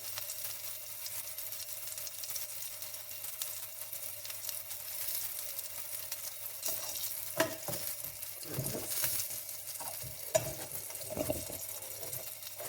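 Gentle sizzling of salmon fish cakes frying in a non-stick pan, steady and fairly quiet, with occasional scraping and clinks as they are moved around.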